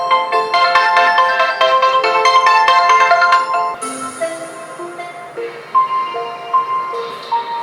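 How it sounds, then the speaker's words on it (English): A bright electronic ringtone melody plays on an OPPO F17 Pro phone, with quick repeated tones shifting into a slower chiming phrase. "we can also create our own ringtones"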